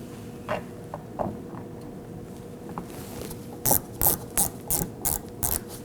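Ratchet wrench snugging a T15 Torx screw on an inner tail light panel of a 2014–2018 Chevrolet Equinox: a few faint scattered clicks first, then a close, loud run of six or seven evenly spaced ratcheting bursts.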